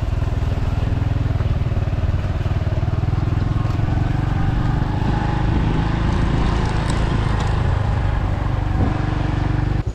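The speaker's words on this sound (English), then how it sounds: "I'm actually gonna move my motorbike down there, leave it there" A motorbike engine runs steadily nearby on a jungle path in Vietnam, making a continuous low, even drone for the whole stretch with no clear pauses.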